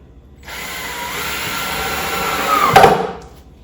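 A power drill drives screws into a wooden swarm trap box, giving one steady whirring run of about two and a half seconds that peaks briefly near the end, close and loud.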